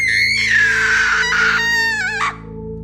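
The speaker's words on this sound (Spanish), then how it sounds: "Solté un grito." A loud, drawn-out scream in a horror story, holding a high shrill pitch for about two seconds before breaking into a shorter wavering cry that cuts off abruptly.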